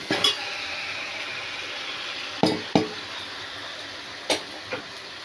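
Fish pieces go into a wide pan of simmering fish stew with oil floating on top: a steady sizzle and bubble, broken by several sharp plops and clinks spaced a second or two apart.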